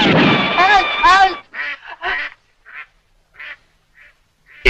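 A cartoonish duck quacks in a loud, raspy burst followed by several shorter, fainter quacks spaced out, set in a French-dubbed western film scene, with a sharp bang at the end.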